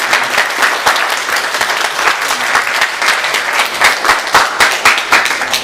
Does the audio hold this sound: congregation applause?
yes